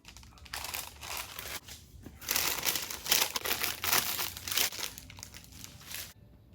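Wax paper crinkles and tears as it is gently slit and peeled away from a Southern red velvet cake made from a box mix, a close, busy rustle that swells and fades.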